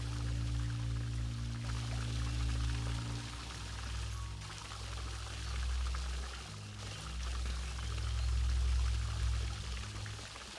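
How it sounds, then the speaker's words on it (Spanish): Steady rainfall pours down on a forest in a dense, even hiss that swells and eases slightly, with a low rumble underneath early on. "la lluvia se abate sobre el bosque encendido."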